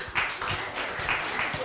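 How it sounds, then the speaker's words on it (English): Audience applause for a panel at the close of a session on judiciaries and climate justice, a short burst of moderate, steady clapping that sounds fairly distant. "And please give round of applause to our panelists today."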